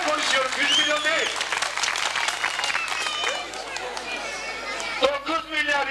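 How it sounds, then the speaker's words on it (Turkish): An audience at a village headman election bursts into scattered applause while excited shouting and crowd chatter carry on over the clapping. "Ya alkışlayın, alkışlayın!"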